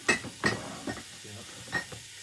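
Turkey mince frying in a pan for spaghetti bolognese, a gentle sizzle under several distinct clinks and scrapes of a utensil against the pan, close by.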